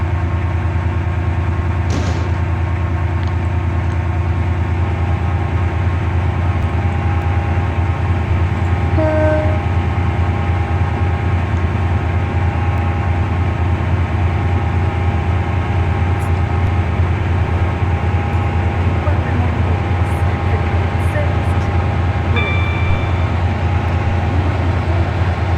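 A train in the Roblox rail game SCR, route R036 to Willowfield, rumbles steadily as it pulls into a station platform, with a low continuous engine drone and a brief horn-like tone midway; no voices.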